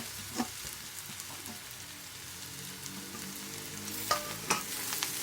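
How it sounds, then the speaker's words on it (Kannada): Grated bitter gourd fries with onion in a pan, producing a soft, continuous sizzle with occasional scraping stir clicks, including a couple of sharper spatula knocks near the end. "ಈ ಈರುಳ್ಳಿ ಜೊತೆ ಅದನ್ನು ಹುರ್ಕೋಬೇಕು"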